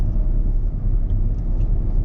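Hyundai Venue car driving at high speed, around 60, with a steady broad road and engine rumble filling the interior, continuous and fairly loud with no voices.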